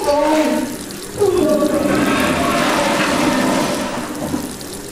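An automatic toilet flushes with a loud rushing, gurgling swirl of water that rises partway through and keeps draining steadily, with a voice briefly heard over it.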